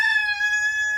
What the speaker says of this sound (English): And then the roosters continue to crow.